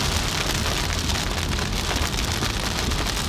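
Rain drums steadily on a car driving through the Rocky Mountains near Moab, a dense, even, close patter that holds at the same loudness throughout with no voices.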